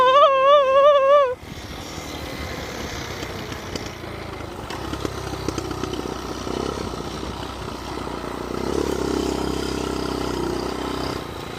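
A short warbling tone cuts off, then a motorcycle engine roars steadily up close, its broad rumble swelling as it pulls through the gears.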